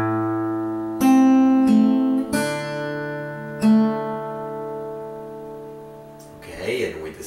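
Fingerstyle acoustic guitar picks out a measure of a song without slaps, a few plucked notes and chords ringing out and decaying, close and clear, with a brief rustle near the end.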